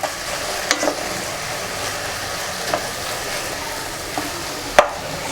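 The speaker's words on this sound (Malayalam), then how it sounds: "Half teaspoon vinegar, 1 teaspoon soya sauce, ഒരു 2 to 3 table spoon tomato sauce. ഇതൊന്ന് മിക്സ് ചെയ്ത് കൊടുക്കാം." Vinegar, soy sauce and tomato sauce sizzle in a hot pan for Indo-Chinese American chopsuey, a steady frying hiss with a few sharp utensil taps against the pan.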